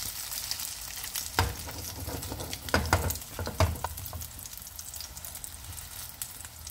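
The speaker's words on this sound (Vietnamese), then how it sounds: "Mình chiên bánh với lửa trung bình và dưới trung bình thôi, đừng có chiên lửa lớn" An egg cake cooks in a pan over medium to medium-low heat, giving a steady close sizzle and crackle of frying with a few sharper pops and spatters throughout.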